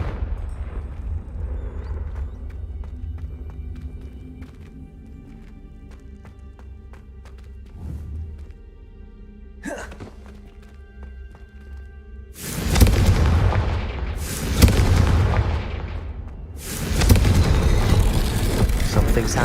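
Confringo explosive spells blast in Hogwarts Legacy, three loud booming bursts in the second half following a quieter stretch of game ambience and rumble.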